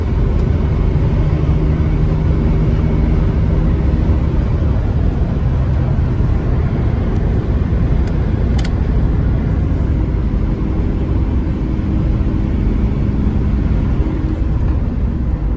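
A Mercedes Sprinter W906 van with a 3.2 OM613 engine drones steadily in fifth gear at cruising speed, a constant low rumble with road noise throughout and no talk.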